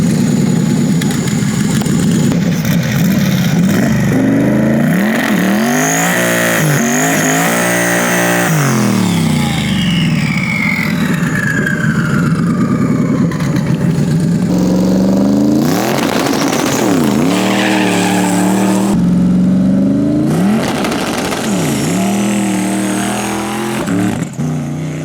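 A twin-turbo Ford Crown Victoria drag car revs hard and accelerates on a no-prep strip, its engine note sweeping up and down through repeated gear shifts, loud and close throughout with no talking.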